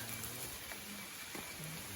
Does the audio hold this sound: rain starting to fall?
yes